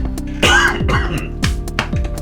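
A burst of several harsh coughs and throat-clearing sounds close by, coming in quick uneven bursts with brief pauses between them.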